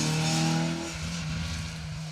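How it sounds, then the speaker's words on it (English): A Ford Escort Droop Snoot rally car, number 75, drives past on an asphalt stage at Rally Ceredigion, its engine note loud and close, then dropping in pitch and fading as it moves away. "the Droop Snoot Escort makes its way past us, car 75"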